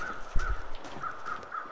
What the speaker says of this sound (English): Really? More crows?